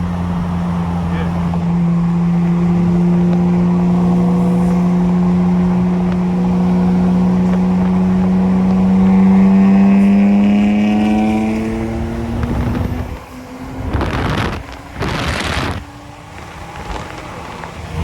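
A modified R32 Nissan Skyline GTR and a twin-turbo 3.0T Infiniti Q50 accelerate hard in a highway roll race, engines droning loud and rising steadily in pitch, then a couple of sharp bursts as the roar tapers.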